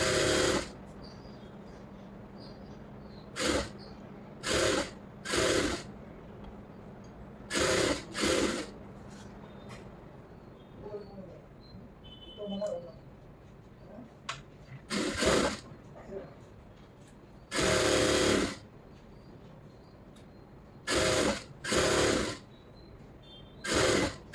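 A sewing machine runs in short, sharp bursts while stitching a lining blouse, separated by longer quiet gaps with soft handling noises and faint background hum.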